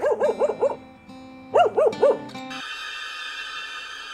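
Several small Chihuahuas yap in quick bursts of four or five high barks, a pause, then another flurry of yips, close and loud, ending in a steady tonal hum.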